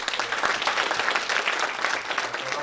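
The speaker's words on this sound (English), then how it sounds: "if you could give them also a round of applause." Audience applause at a social cohesion dialogue, a dense, steady round of many hands clapping close by for nearly three seconds with no talk over it.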